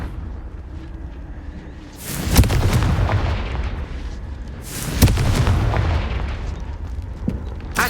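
A Confringo fire spell goes off in Hogwarts Legacy, with two loud bursting blasts about three seconds apart, each rolling into a crackling rumble over steady game ambience.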